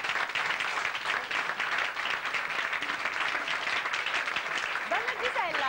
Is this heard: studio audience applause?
yes